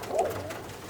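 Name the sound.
Birmingham Roller pigeon cooing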